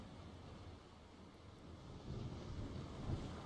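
Wind and sea surround a sailing ship at sea in the video game The Longest Journey, a low steady roar of wind and water that swells slightly louder toward the end, with no voices.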